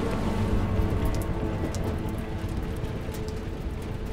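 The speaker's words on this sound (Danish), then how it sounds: "Nu begynder det at regne." Rain falling on the deck of a ferry crossing, a steady dense patter with scattered louder drops, continuous and fairly close throughout.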